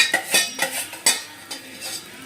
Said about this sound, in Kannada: ಈಗ ಇದನ್ನು ನೀಟಾಗಿ ಮಿಕ್ಸ್ ಮಾಡ್ಕೋಬೇಕು.